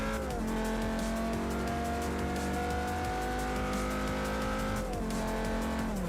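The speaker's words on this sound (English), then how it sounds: "That 5-cylinder noise is so good." Five-cylinder car engine in the Forza Motorsport 4 racing game, a steady, warbling drone holding pitch with brief dips as it shifts and climbs again, heard alone.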